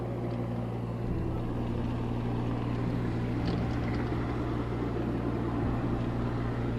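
Boat engine exhaust droning steadily at close range in the aftermath of the Texas Hill Country flood, a loud, constant low rumble with no voices over it.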